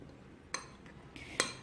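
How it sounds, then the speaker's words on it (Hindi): A spoon clinks against a bowl while flour, black pepper and salt are stirred together as a dry coating mix; a few light, close taps and scrapes over a quiet background. "अब इन तमाम चीज़ों को मैं थोड़ा अच्छे से मिक्स कर लेती हूँ।"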